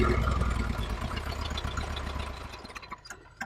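A tractor engine idles nearby, a steady low rumble that holds through most of the stretch before easing slightly toward the end, with no talk over it.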